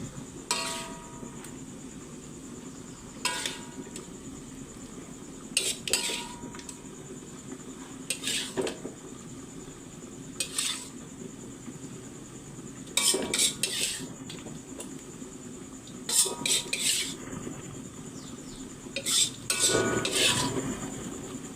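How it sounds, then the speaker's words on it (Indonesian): Metal spatula scrapes and clinks against a pan in irregular bursts while cucumber is stir-fried for an Indonesian oseng dish, with a low steady background hum and no talk. "Sudah matang, tumis timun."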